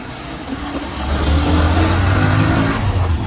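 A motorbike engine revving loudly and close, rising from a lower rumble into a sustained throaty roar on a town street, with no talking.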